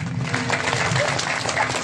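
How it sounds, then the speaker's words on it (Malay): Crowd at a political campaign rally in Nagan Raya, Aceh, applauds in a short, dense burst of clapping, with some voices mixed in underneath. "Tepuk tangan."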